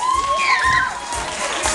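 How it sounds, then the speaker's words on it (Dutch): Children at a kids' carnival musical-chairs game cheer and shout loudly close by, a dense burst of high excited voices over clapping. "Ook voor onze verliezers mag ik eens een heel groot applaus."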